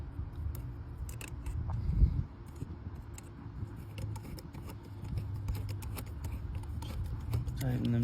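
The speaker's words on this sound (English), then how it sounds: "I'll tighten it all down now with the wrench and my flathead." A wrench tightens hose fittings on a 2005 GMC Envoy, producing small metallic clicks and scraping ticks at close range, scattered irregularly while someone talks over the work.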